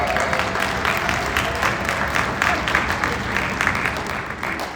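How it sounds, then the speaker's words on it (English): An audience at a high school honor band concert claps for parents, guardians and family in a dense, steady round of applause that holds at an even level throughout, with no one speaking over it. "Students on stage, can you give a round of applause to your parents and guardians and family?"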